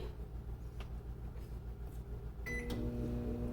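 A microwave oven reheating khichdi hums steadily at close range, its low drone stepping up slightly louder partway through with a faint clunk.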